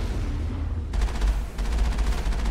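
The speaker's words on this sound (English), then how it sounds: "Pelting him with rockets and gunfire every now and then." Rapid gunfire and rocket blasts from a Mass Effect battle sound in quick bursts, a dense stuttering volley over a low rumble, pausing briefly before resuming.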